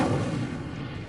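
In Hogwarts Legacy an Incendio fire spell is cast, releasing a loud, low, rumbling whoosh of flame that fills the short moment and slowly fades.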